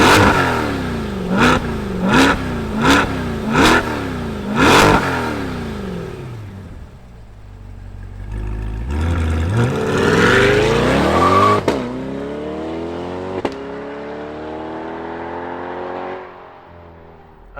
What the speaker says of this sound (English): let's fire up this V8 and hear what it sounds like.